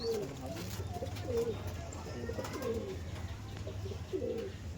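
Male and female Madrasi pigeons coo softly in repeated short throaty phrases, with a low hum and faint background noise underneath.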